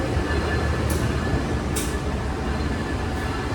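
A steady, close rumble of the Jaka Tingkir train departing the station, with a couple of faint hissing swells riding on top.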